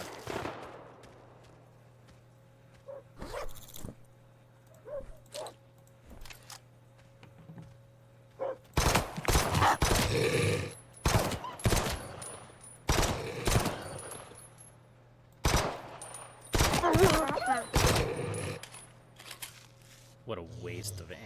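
Video game gunfire crackles in loud, rapid bursts and clusters of sharp shots, separated by quieter gaps with a steady hum, while a person talks intermittently.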